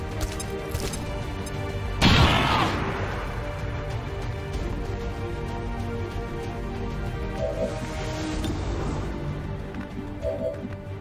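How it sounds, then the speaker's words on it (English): XCOM 2 grenade explosion: one sharp, loud burst about two seconds in that rolls off into a fading rumble over ongoing game background noise, with no speech. "Throwing grenade."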